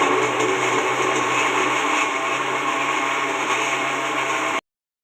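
A mixer grinder whirs steadily and loudly at close range, blending mango for several seconds before cutting off abruptly.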